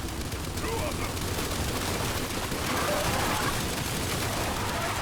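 Continuous gunfire from the shooter game Gears 5 in its Horde-style mode, a steady dense barrage of rapid automatic shots heard throughout at moderate level, with players talking over it.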